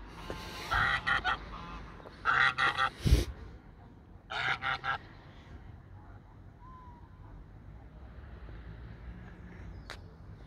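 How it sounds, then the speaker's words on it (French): A goose honks in a few short clustered bursts at a moderate distance, then the scene settles into quiet outdoor ambience. "Une oie."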